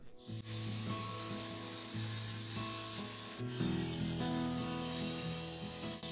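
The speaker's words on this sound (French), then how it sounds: "Un disque à lamelles sur la meuleuse me permet de décaper rapidement ce bois." Steady abrasive rubbing and grinding against wood, loud and continuous, with a brief shift in tone midway as the angle grinder's flap disc presses harder while stripping the wood.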